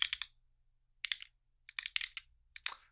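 Crisp clicks from a basic 1990s Dell computer keyboard, typed in several quick bursts of keystrokes separated by short pauses, close and fairly loud with no talking.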